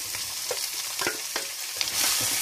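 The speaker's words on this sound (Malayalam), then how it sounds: "ഇതിനകത്തോട്ട് നമുക്ക് സോയാബീൻ ചേർത്ത് കൊടുക്കാം." Soya chunks stirred and roasted in a pan with fried coconut pieces, giving a steady sizzle broken by several scraping spoon strokes, close and clear with no talking.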